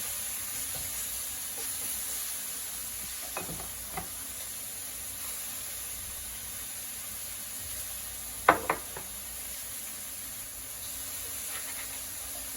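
A homemade hamburger patty frying in a pan gives a soft, steady sizzle and hiss, close but low, broken by a few brief clicks and knocks from the pan or utensil, with no talking.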